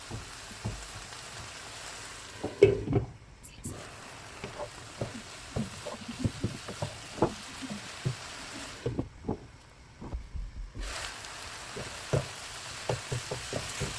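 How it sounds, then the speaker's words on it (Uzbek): Chicken and vegetable fritters with cheese frying in a pan, a steady fine sizzle with crackling pops scattered throughout and two brief quieter gaps, close and without talk. "Chalagina qilib qovurib olamiz."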